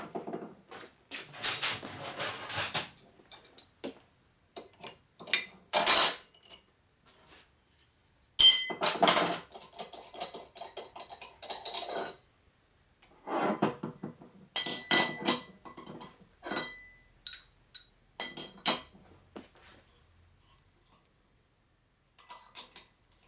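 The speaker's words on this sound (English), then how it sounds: "I'm gonna take out this mandrel" A metal mandrel is pulled out and swapped on a flywheel balancer during a Harley Shovelhead stroker motor rebuild, with close, sharp metallic clinks and dull knocks in uneven bursts separated by quiet gaps.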